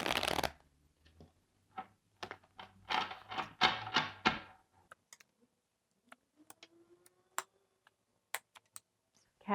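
Hogwarts house tarot cards are shuffled close by in a few quick riffling bursts, followed by scattered soft taps and thunks as cards are handled and set down.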